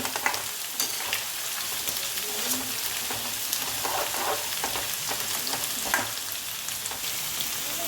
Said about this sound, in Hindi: इसको ज़्यादा हम पकाएंगे नहीं, डीप फ्राई नहीं करेंगे, हल्का सा फ्राई करेंगे।